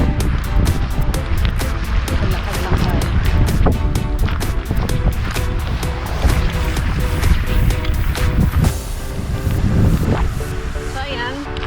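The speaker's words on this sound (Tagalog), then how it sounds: "Hangin." Strong wind buffets the microphone on a beach walk at Petone Beach, a constant loud rumbling roar with gusty swells that persists throughout, while a person speaks briefly over it.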